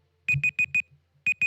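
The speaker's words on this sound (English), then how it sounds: "look, I've got an alarm" An alarm beeps in two quick bursts: four sharp, evenly spaced electronic tones, a short pause, then two more, loud and close with no talking.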